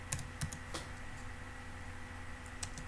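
Rapid keystrokes on a computer keyboard while entering code, a few sharp clicks scattered over quiet background hum.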